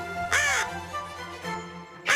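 Crows caw in a children's cartoon, two harsh calls spaced apart over a steady background drone, fairly loud and near.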